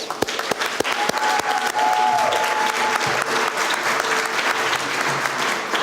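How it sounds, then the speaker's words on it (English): A round of applause rises from the audience at a speech on property taxes, loud and sustained, with a few sharp claps standing out at the start. "I'll give you a round of applause."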